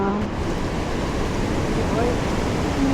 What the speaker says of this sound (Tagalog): Tingnan mo ang alon, no?